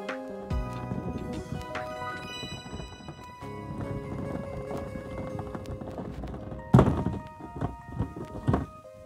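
Lottery balls being drawn for a Disney-themed loto, hollow plastic thunks and rattling knocks tumbling in an irregular rhythm, close and moderately loud, with a sharper clatter near the end.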